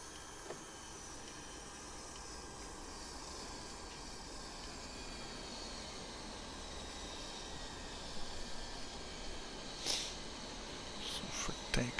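A Dassault Mirage F1 jet taxiing in the DCS flight simulator game: a faint, steady engine drone with a few small clicks near the end.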